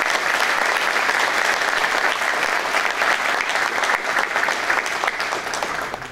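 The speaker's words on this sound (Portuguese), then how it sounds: "eu quero pedir aqui uma salva de palmas aos nossos presidentes de subseções" Sustained, dense applause from a hall of delegates at a regional bar association meeting in Rio Grande do Sul, loud and even, fading slightly at the end.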